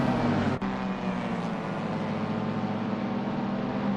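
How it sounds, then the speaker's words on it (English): Mini Cooper race cars in a racing game run their engines at the Thruxton circuit, a loud continuous drone that holds steady throughout, broken once by a sharp click near the start. "The engines are louder than you are, Aiden."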